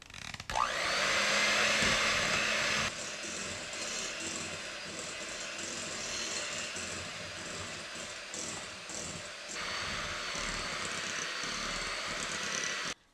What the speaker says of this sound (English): I'm going to take my electric hand mixer. I'm going to beat this all together for 2 minutes